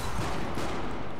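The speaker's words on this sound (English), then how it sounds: "Throwing grenade as well." A grenade goes off in the co-op zombie shooter Sniper Elite V2 Nazi Zombie Army, a loud, dense burst of explosive noise sustained through the short moment amid other gunfire-like blasts.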